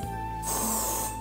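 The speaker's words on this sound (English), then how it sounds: "Spray helps to hold this" Hairspray from an aerosol can hisses in a single short burst onto a bridal bun hairstyle, close and fairly quiet, over a steady background hum.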